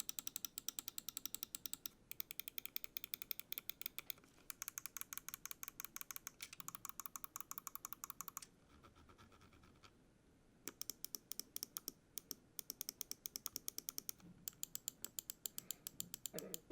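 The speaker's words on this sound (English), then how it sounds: "I'll drop a quick sound test for you guys so you guys can hear exactly how these switches sound" Crisp mouse switch clicks from a Mad Catz M.O.J.O. M1 gaming mouse, tapped in fast, steady bursts close up, with a brief pause of quiet rustle midway before the clicking resumes.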